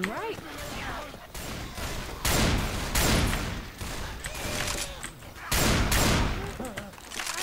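Gunfire from the Left 4 Dead game comes in loud bursts of rapid shots, several volleys a second or so apart, with people talking underneath.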